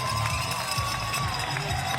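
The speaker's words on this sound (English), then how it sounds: "Jim, listen to that crowd." A crowd cheers along a road race course at Adidas headquarters in Herzogenaurach, a dense continuous roar of shouting spectators that stays steady and loud throughout.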